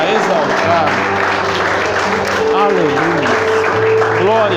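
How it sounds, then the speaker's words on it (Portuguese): A church congregation claps steadily and loudly throughout, with voices singing or calling out over the applause. "Pode aplaudir, glorificar, exaltar."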